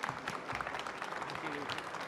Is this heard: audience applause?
yes